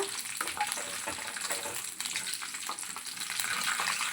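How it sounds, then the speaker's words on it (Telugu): Cauliflower pieces deep frying in hot oil give a dense, continuous crackling sizzle with busy bubbling, close and fairly loud from start to finish. "ఆయిల్ వేడిన తర్వాత క్యాలీఫ్లవర్ ముక్కలను అయితే మొత్తం ఆయిల్లో వేసేసి వీటిని బ్రౌన్ కలర్ వచ్చే వరకు అయితే వేయించుకోవాలి డీప్ ఫ్రై చేయాలన్నమాట"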